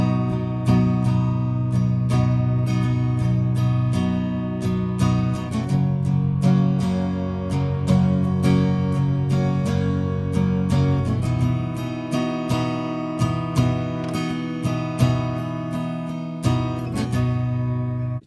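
Guitar strumming the verse rhythm of a song, steady repeated strums through a chord progression, played alone and fairly loud throughout.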